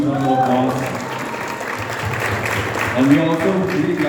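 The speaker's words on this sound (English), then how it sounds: "Can we have a huge round of applause?" Audience applause at a film event for a biographical sports drama, a steady wash of clapping that runs the full four seconds with voices talking over it.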